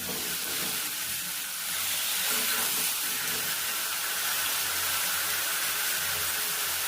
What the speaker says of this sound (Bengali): ভালো করে কষে নেবো মাংস